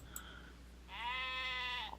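A sheep in a field gives a single soft, drawn-out bleat lasting about a second, faint and alone after a brief quiet moment.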